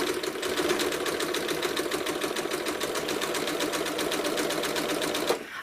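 A sewing machine quilting an American flag panel runs in a steady, rapid needle rhythm, loud and close for several seconds before stopping abruptly near the end.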